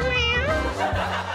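A cat meows in a cartoon scene aboard an airplane, a drawn-out, wavering cry with rising and falling pitch, loud and close, over a low background rumble.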